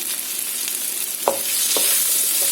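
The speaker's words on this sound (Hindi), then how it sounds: "और इसको अच्छे से सॉटे कर देंगे।" Tricolor capsicum and baby corn sauté in a hot pan for baby corn Manchurian, with a constant close sizzle and a few faint scraping stirs of a spoon.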